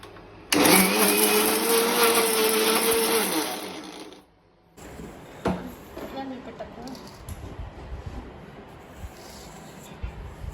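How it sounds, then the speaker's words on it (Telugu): A kitchen mixer grinder whirs loudly, grinding dried used flowers into powder, running steady for about four seconds before cutting off sharply, then quieter handling noises and a clack follow. "నెక్స్ట్ మనం ఆ పొడిని మిక్సీ పట్టుకుందామని చెప్పినా కదా"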